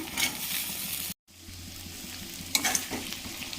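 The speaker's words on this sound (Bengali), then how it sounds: "এবারে একটু আলুটা একটু ভেজে নিচ্ছি।" Thinly sliced potatoes with onion, salt and turmeric fry and get stirred in oil in a wok, a soft close sizzle that cuts out briefly, then returns with a scraping stir.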